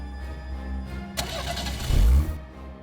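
A car engine cranks and catches, with a sudden burst of starter noise, then a deep swell as it fires and settles toward idle, heard close over low background rumble.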